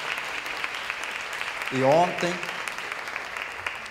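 Audience applause at a fashion talk, a dense, even patter of many hands throughout, moderately distant, with a brief voice rising partway through.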